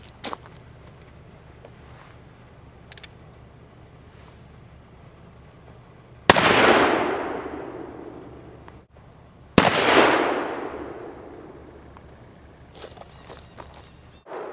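Two loud black powder shots from a 7.5-inch Ruger Old Army revolver loaded with 3F Goex powder and a 225 grain conical bullet, each a sharp blast with a long ringing decay, a few seconds apart outdoors.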